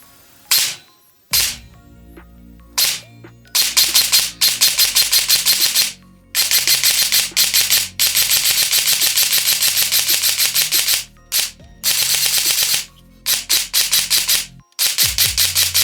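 An E&C SMR 16 airsoft rifle fires in rapid bursts during a shoot test, each burst a dense run of sharp mechanical shots, loud and close, separated by short pauses with a faint low hum between.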